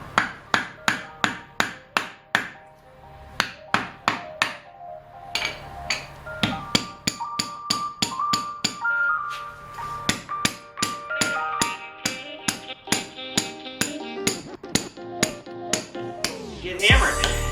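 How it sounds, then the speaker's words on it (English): A mallet pounds bushings into sway bar disconnects, the work done on the floor without a vise: loud, close, repeated hammer strikes in steady runs with short pauses, ringing metallic tones under each blow. "I'm going to show you another way to pound these bushings in if you don't have a vise"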